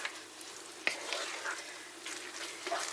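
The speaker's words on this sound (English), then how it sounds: "Now I'll just simmer that for 2 to 3 minutes." A pan of mince meat curry simmering on the stove gives a soft, steady bubbling sizzle at close range, with a couple of brief clinks or stirs breaking through.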